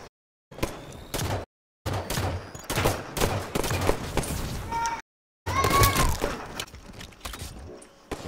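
Bursts of rapid gunfire from several guns shooting at once, loud sharp cracks and popping volleys separated by brief silent gaps.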